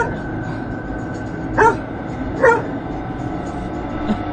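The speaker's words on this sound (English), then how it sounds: "After barking a few times, the dog is pushed forward." A dog gives two short barks, spaced about a second apart, over steady background hiss and faint talk.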